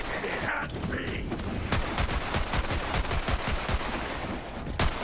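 Rapid gunfire in Borderlands 3, a fast run of sharp shots at a steady rhythm over a busy game soundscape, loud and close.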